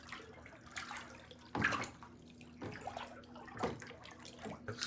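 Water swirling and sloshing in a large hydroponic reservoir for a drip irrigation setup as a solution is stirred in, a soft continuous wash with a few stronger splashy surges, close and fairly quiet.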